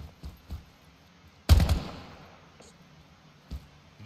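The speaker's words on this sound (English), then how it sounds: "I heard a gunshot, but I assume Tom was shooting at something." A single sharp video game gunshot bursts out mid-clip and trails off into a brief echo, with faint softer thuds before and after.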